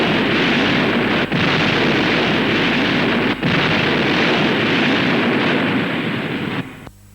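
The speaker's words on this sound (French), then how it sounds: "Attention, c'est une bombe" Bomb blast on a 1972 French film soundtrack from a VHS rip, a loud, dense, continuous roar with a couple of brief dips before it fades out near the end.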